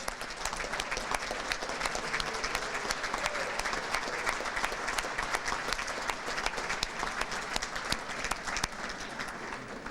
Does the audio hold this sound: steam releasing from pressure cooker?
no